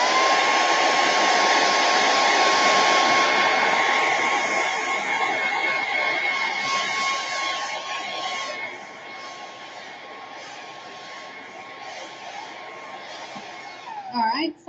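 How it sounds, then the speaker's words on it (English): A hair dryer roars loudly and steadily, then drops to a lower, softer hum partway through before clicking off at the end. "So I'm going to dry this with my blow dryer."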